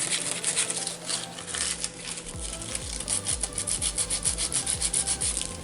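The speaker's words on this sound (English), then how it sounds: "I'm going to sand off some of this cardstock too." Cardstock is sanded by hand in quick, rhythmic rubbing strokes, a dry scratchy rasp that speeds up into a steady back-and-forth pattern, heard close with no speech.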